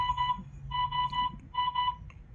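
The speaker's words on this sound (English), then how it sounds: "I guess that's the alarm" An alarm beeps in a garage where a 2016 Hyundai Veloster DCT Turbo is being repaired, sounding in three short bursts of rapid high-pitched tones with brief gaps between them, fairly loud and close.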